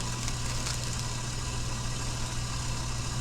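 A stand mixer with the paddle attachment churns lemon chiffon cake batter, a steady, close motor hum with a constant low drone and no pauses.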